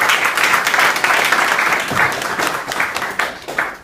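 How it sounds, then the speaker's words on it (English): A loud, full round of audience applause follows a speaker's self-introduction at a meeting, with many hands clapping densely and evenly before tapering slightly near the end. "We'll give a round of applause."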